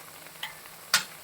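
Spices and turmeric being stirred into pork curry in a pan give two short, faint scraping strokes against a quiet background.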